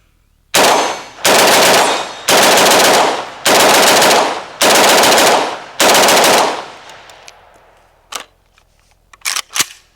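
A 5.56 AK rifle fires a magazine of 25 rounds in six loud, close bursts of rapid automatic fire with short pauses between them, followed by a few scattered clicks and clatters.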